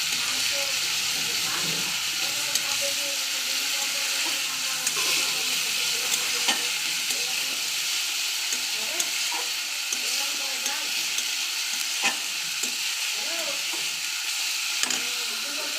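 Onion, ginger and garlic paste sizzles steadily in hot oil with whole cumin, bay leaf and green chillies, a continuous close frying hiss with occasional stirring clicks.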